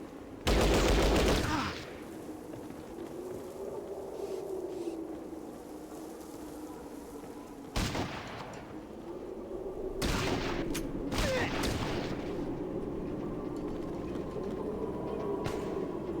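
Gunfire in the video game Fallout Tactics: a loud burst at the start, then sharp shots around the middle and a quick cluster of rapid bursts later, over a droning low background.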